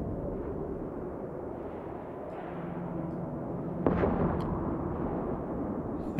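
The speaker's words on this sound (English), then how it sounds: "This sentry turret really has quite the explosion." A sentry turret blows up in the space game Eve Online, a deep rumbling blast that swells midway over a continuous low roar of combat and engine noise.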